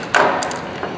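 Hammers handled in a mechanic's workshop among basic entry-level tools: a sharp metallic clink followed by light knocks and rattles as they are picked up and set down, close by, with no talk.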